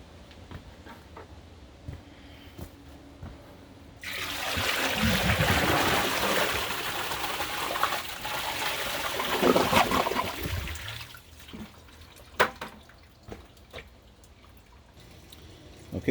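An American Standard Tribor toilet is flushed with a bucket of water. A sudden loud gush and swirl lasts about seven seconds, then trickles and drips fade into quiet bathroom ambience with a few small knocks.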